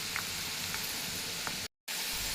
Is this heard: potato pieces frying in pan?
yes